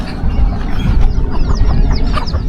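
Chickens clucking, young birds now grown from chicks, in a noisy farmyard; a dense overlapping chorus of clucks and short calls continues throughout, fairly close, with no talk.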